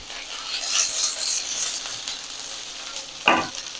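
Chopped onion and capsicum sizzle and fry in a pan for baby corn chilli, a close, steady crackle with stirring scrapes and one sharp clatter near the end.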